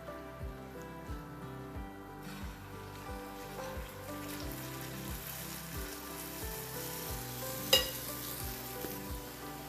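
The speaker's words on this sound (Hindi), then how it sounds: "अभी मैं इसको फ्राई करूँगी" Dahi bhalla lentil dumplings frying in hot oil give a steady close sizzle, with a regular pulsing bubble underneath and one brief sharp clink near the end; no voices.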